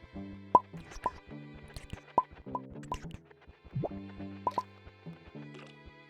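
Soft watery plops and drips sound one after another as plants are watered in the game Mito, with short bright droplet hits over a low layered musical drone.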